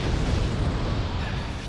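Missile explosions in the war game Wargame: Red Dragon, heard as a dense, continuous low rumble of blasts and debris lasting the whole moment, with no talk.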